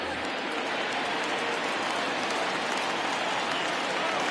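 A dense, steady roar of a home stadium crowd cheering after a home run in the baseball video game MLB 20, continuous and broad with no voices standing out.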